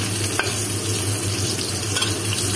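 Ginger and garlic sauté in a pan for clams in tomato, a dense, steady close sizzle with soft stirring scrapes and a low hum underneath.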